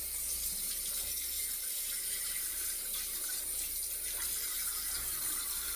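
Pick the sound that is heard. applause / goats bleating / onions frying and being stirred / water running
water running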